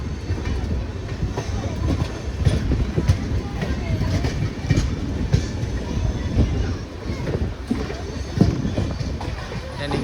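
An express train, either the Tuticorin–Chennai Egmore Express or another train on the same shared track, rumbles past steadily with rhythmic clatter throughout, heard from aboard a moving train with some voices in the background.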